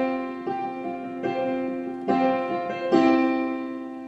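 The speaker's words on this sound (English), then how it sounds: "suspended chords will be used and they will resolve back to the 1" Piano chords struck one after another in a slow, even rhythm, a suspended chord resolving back to the home chord, each attack ringing out and sustaining into the next, close and clear with no talking.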